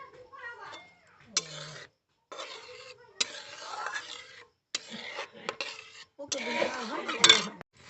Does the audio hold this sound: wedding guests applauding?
no